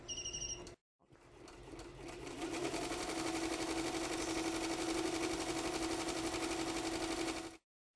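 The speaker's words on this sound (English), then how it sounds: "We're going to press our Start button and it's going to begin sewing." An embroidery sewing machine stitches a traced design, its motor spinning up after a brief pause into a loud, close, fast and even mechanical rattle of needle strokes that runs on steadily before cutting off, with no talking.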